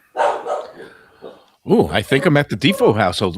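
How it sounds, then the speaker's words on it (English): A dog barks several times in a quick, close burst, and then a person starts talking once the barking stops. "So apologies for the barking."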